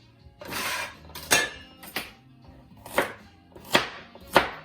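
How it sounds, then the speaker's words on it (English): Knife chopping carrots into pieces on a cutting board while making cream of chicken soup: five or six distinct, fairly loud chops at an uneven pace, each a crisp thud against the board, with no talking. "And then I'm just going to cut each carrot into a few pieces."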